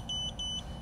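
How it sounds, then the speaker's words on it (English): An FPV drone setup, a RCharlance FuryBee Q95, gives off a series of short, high, two-tone electronic beeps, about four in quick succession, fairly close over a low background hum. "I'm stopping this beeping."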